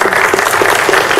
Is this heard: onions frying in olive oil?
no